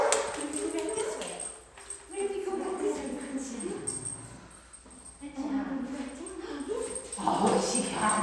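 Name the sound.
adult dog playing with puppies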